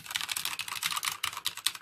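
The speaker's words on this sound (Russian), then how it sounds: "А вот так звучат уже с кейп-капами. Вот, допустим, мы печатаем." Fast, continuous typing on a Kingston HyperX Alloy Elite keyboard with Cherry MX Brown switches and keycaps fitted produces a dense, close clatter of overlapping key strikes.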